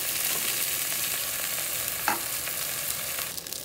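Carrot and herbs fry in a pan with a dense, bright continuous sizzle and faint stirring scrapes, close and loud with no voices.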